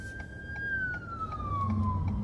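An ambulance siren wails with a single sustained tone sliding downward as it passes in traffic, heard from inside a car over a low engine rumble.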